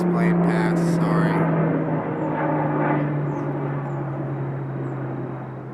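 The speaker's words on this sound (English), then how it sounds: "Let me let this plane pass." An airplane passes overhead as a steady, fairly loud low drone that holds throughout and fades only slightly toward the end, with a brief burst of voices at the start.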